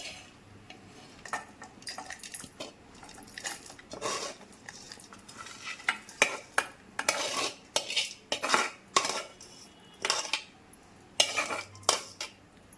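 A spoon scrapes and clinks against a metal mixer jar while a cooled cooked mixture is spooned in, a run of irregular taps and knocks, close up, with no talking.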